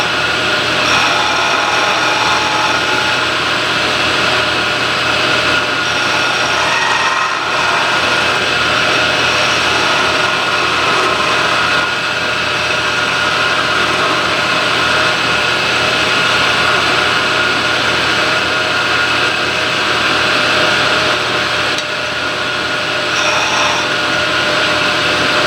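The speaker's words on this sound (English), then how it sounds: "I just wanted to show you how you could lathe right out to the end, and especially using a skew" A wood lathe spins steadily as a skew chisel turns a finial right out to its end, giving a loud, continuous broadband whir and hiss of cutting with a faint motor hum underneath and no talking.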